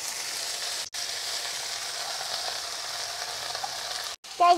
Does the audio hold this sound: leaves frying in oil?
yes